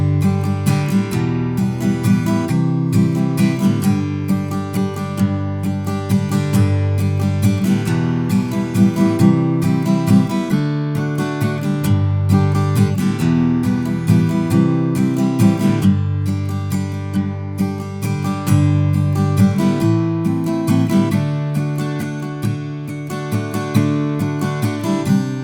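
Acoustic guitar strumming the chords of a verse of a song, steady full-bodied rhythm played close and clear for about twenty-five seconds with no voice.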